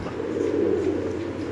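Pigeon cooing from Pakistani pigeons at a pigeon market, a steady low throaty murmur continuing through the short moment at close range.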